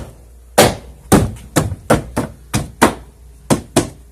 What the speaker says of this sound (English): And I can now take and simply start snapping it.